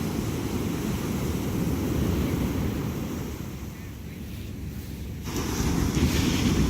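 Steady surf of ocean waves washing on a sea shore, a continuous broad roar that swells slightly, with some wind buffeting the microphone.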